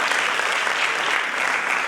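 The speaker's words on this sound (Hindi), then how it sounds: "जोरदार तालियों से हम उनका भी स्वागत करेंगे।" Steady applause from a ceremony audience welcoming guests at a World Heritage Week event in Jammu, dense and even throughout with no talk over it.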